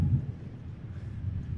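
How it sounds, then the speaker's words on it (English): Strong wind buffets the microphone at the Starship SN8 launch site, a low, continuous rumble with gusty swells and no other clear sounds. "quite windy here."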